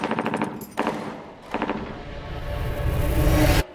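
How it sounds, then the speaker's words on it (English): Bursts of rapid automatic gunfire in a film trailer about armed terrorists, two sharp rattling volleys followed by a building rumbling roar that cuts off abruptly, loud and close. "Were those gunshots?"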